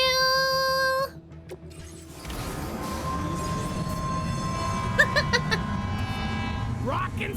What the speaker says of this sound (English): Oh my god, we're all going on the monorail?